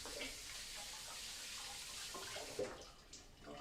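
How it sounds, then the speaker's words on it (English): Cold tap water runs steadily over a peeled sweet potato at a kitchen sink, a continuous broadband rush with a brief splash partway through, fairly quiet and without talk. "I just wash it again under cold water"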